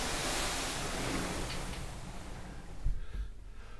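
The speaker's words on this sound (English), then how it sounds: "Sit out and listen to the nice Pacific Ocean as we sail on to Hilo" Pacific Ocean waves and wind rushing past a cruise ship stateroom balcony while sailing toward Hilo, Hawaii at night, a steady broad wash of surf noise with occasional soft thumps.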